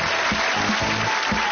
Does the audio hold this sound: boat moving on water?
no